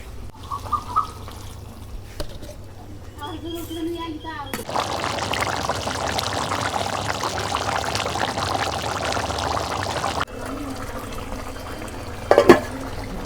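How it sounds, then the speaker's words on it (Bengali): Water pours steadily into a pot of beef and papaya being cooked, a continuous splashing stream lasting several seconds, with quieter kitchen sounds before and after and a sharp clatter near the end. "আবার এখন পানি দিয়ে দেবো।"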